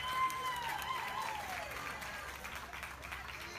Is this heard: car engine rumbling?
no